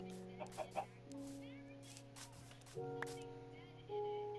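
Minecraft chickens cluck in short bursts over a steady hum of game music, fairly faint, with a few sharp clicks scattered between the calls.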